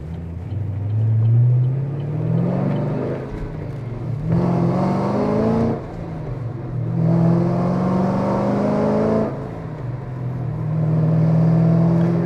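Supercharged 2011 Chevrolet Camaro accelerating hard on a wet road, engine note climbing repeatedly through gears with loud revving surges and brief dips at shifts, heard from inside the car.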